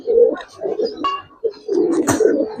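A pair of large jira gola pigeons on a pigeon farm, cooing in short repeated throaty phrases close by, with a brief bright chirp between calls.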